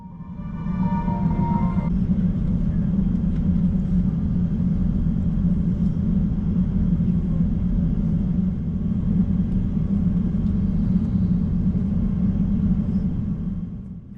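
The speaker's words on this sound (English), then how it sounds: "Now please enjoy this unedited takeoff." A Singapore Airlines airliner taking off from the runway at Hong Kong, heard from the cabin as a loud, steady low engine roar and rumble that holds for most of the clip before easing at the end.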